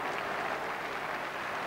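At the final whistle, the Highbury crowd gives Arsenal steady, sympathetic applause after their 1988/89 draw with Wimbledon, a brief, even wash of clapping from a large stadium crowd.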